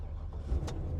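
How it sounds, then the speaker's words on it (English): A truck engine rumbles low and quiet for about a second, a steady idle with a faint rise partway through and no talking. "Next question is, will the truck start?"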